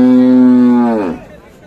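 A Friesian cow with her heifer calf at the Ambari cattle market gives one long, loud, steady moo that drops in pitch and fades away at the end.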